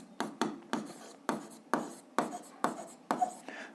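Pen writing on paper while solving an algebra system of equations, a series of about eight scratchy strokes in a steady rhythm, close and clear with no talk.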